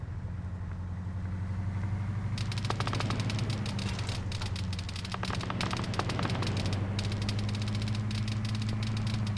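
Rapid automatic gunfire and bursts of shots from the Arma 3 video game crack over a steady engine drone, with dense firing from a few seconds in onward and no voices.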